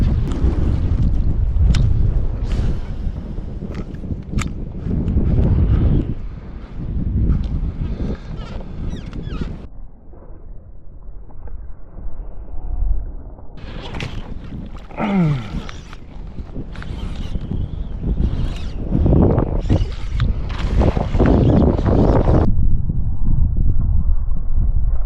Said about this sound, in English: This just in, it's windy still.